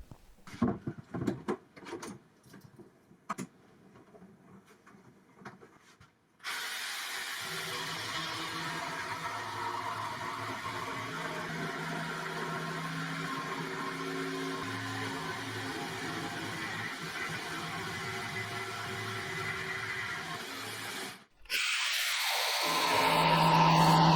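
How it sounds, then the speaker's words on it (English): A jigsaw cuts through badly twisted, warped elm timber: some scattered knocks and handling noises, then a steady, loud buzzing cut of about fifteen seconds that stops briefly before the saw starts up again. "cutting down twisted, warped cut timber with the jigsaw is an absolute dawdle"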